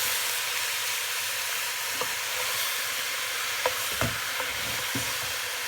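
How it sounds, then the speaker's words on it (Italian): Minced meat sizzling in a pan for a homemade ragù, a constant close hiss of frying broken by a few soft knocks of stirring, with no voices. "A questo punto facciamo soffriggere anche il macinato."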